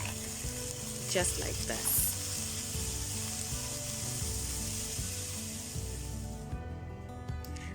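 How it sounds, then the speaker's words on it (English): Shrimp hit a pan of sauteed garlic, ginger and onions and sizzle steadily as they fry, with faint clinks of stirring and a brief voice speaking near the start. "after this has sauteed for about 2 minutes, I'm going to go in with my shrimp"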